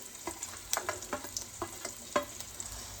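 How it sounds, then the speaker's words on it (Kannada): A spoon scrapes and stirs masala spices, salt, chilli powder and turmeric, in a pan for Maggi noodles, with a soft sizzle beneath a series of distinct, fairly close scraping strokes. "ಮಸಾಲೆ ಎಲ್ಲ ಮಿಕ್ಸ್ ಮಾಡ್ಕೊಂಡ್ಬಿಡ್ತೀನಿ"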